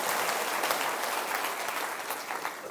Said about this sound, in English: we should all applaud the gentleman